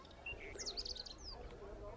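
Faint, distant chirps and tweets from a flock of small birds perched on a mobile phone tower in the hills, brief high calls over a low outdoor background hum.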